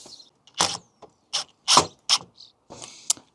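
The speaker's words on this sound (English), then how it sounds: "So I'm going to pre-mount the screws ready for it to go in the van." Screws being pre-mounted into a wooden board for a Transit Custom camper van build, heard as several separate short ratcheting, grinding bursts with quiet gaps, close by.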